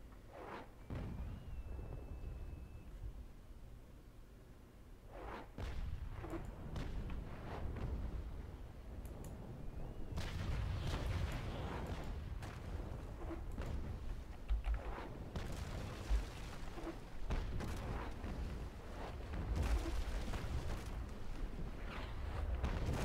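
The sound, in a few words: cannon fire from ships in the video game Naval Action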